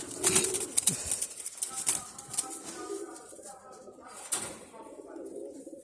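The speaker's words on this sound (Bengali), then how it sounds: "এই যে কবুতর, নর কবুতর এটা।" Teddy pigeons coo softly nearby, including a male, with some wing flutters and rustling, low murmuring calls repeating amid background movement.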